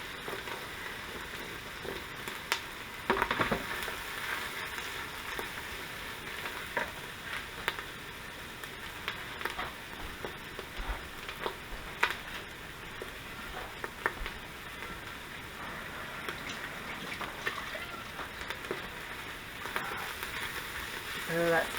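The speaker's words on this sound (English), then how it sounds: "I'm going to go ahead and add my mushrooms here" Chopped baby portobello mushrooms sizzling in the hot pot of an Instant Pot, a steady soft frying crackle with scattered pops, fairly faint and continuous throughout.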